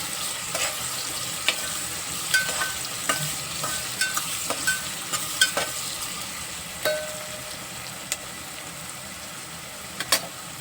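Sliced onions frying in a pan until browned for a whole masoor pulao, a soft steady sizzle under scattered sharp clicks and scrapes of a stirring spoon, close by with no talking.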